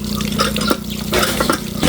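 Water flows from a borrowed Jetmatic hand pump at a newly dug well, a steady close pour with short splashing surges.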